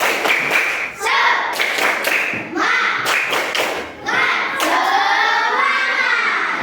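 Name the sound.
group doing rhythmic spirit clap routine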